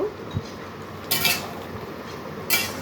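A spoon stirs pangas fish and bottle gourd curry in a pot over a soft simmer, with two bright metallic clinks against the pot about a second apart.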